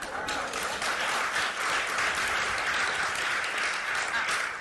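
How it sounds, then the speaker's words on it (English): Steady audience applause at a live onstage conversation with Janet Napolitano, dense and sustained clapping at even loudness throughout. "Yeah, you can clap for that."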